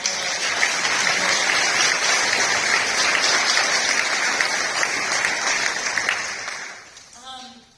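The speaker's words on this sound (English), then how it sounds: "the parents and families who support these kids also deserve a round of applause" Sustained applause from an audience at a congressional event, a dense steady wash of many hands clapping that stays loud for most of the stretch before fading out, with a voice starting to speak at the very end.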